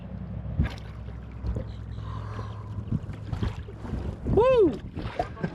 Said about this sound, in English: that boat's going to create a pretty big wake